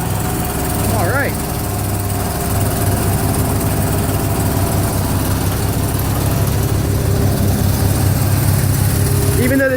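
John Deere 210 lawn tractor engine idling just after a cold start, a steady, loud, close chugging drone that runs unbroken the whole time, with a brief higher whine near the start.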